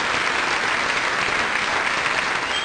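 Studio audience applause during a mock political panel show, a thick, even roar of many hands clapping continuously at steady loudness with no voices.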